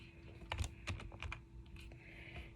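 A Corsair K55 computer keyboard is typed on in a quick run of close, crisp key clicks with brief pauses, ending in a sharper loud clack.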